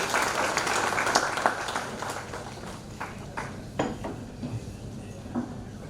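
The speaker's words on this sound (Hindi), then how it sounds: "एक बार जोरदार तालियां हो जाएं" Audience applause at a Uttar Pradesh training and employment department event with Tata Consultancy Services: steady, moderately distant clapping from a crowd that carries on throughout, with scattered sharper claps standing out.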